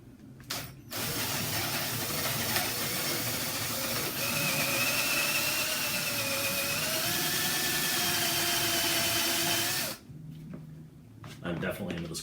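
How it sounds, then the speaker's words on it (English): A power drill whirs steadily for several seconds, its pitch shifting slightly as it bores into scrap wood, then stops, leaving quiet rustling and small clicks. "we're just going to go ahead with the drill on forward"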